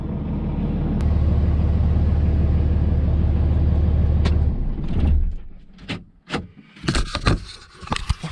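Turbo diesel engine of a pickup truck idling steadily with a low, even rumble up close, then cutting off, followed by scattered clunks and rattles as it goes quiet.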